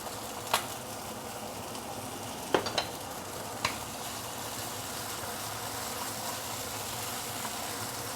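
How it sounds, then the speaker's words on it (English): Tomato sauce sautés in oil in a pan with a steady, soft, close sizzle, broken by a few sharp clicks of a utensil against the pan. "Always saute your tomato sauce"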